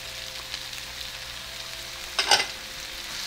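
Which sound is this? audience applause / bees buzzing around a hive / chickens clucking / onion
onion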